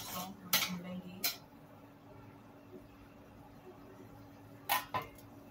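Sliced radish being stirred in a cooking pan, with a few sharp utensil clinks and scrapes against the metal over a quiet low sizzle.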